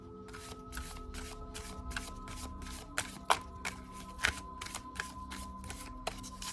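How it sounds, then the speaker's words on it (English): Flower-themed oracle cards are shuffled overhand in quick, rhythmic bursts, a steady series of soft riffling swishes, close and quiet, with a few sharper taps. "has a really great overhand shuffle"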